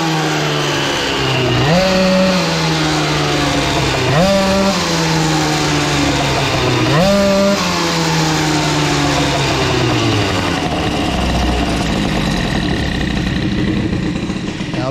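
A tuned Airsal CPI 70 GTR scooter engine running rich on a size 88 carburettor jet, revving loudly and close with three rising throttle blips over a steady buzzing idle, no talk.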